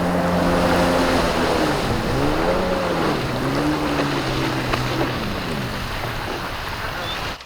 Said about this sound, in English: For just a few miles of riding the jet ski around, it started running bad